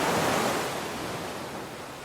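Steady ocean surf washes in as a broad hiss, a wave rushing up then settling into a softer, continuous wash. No voices.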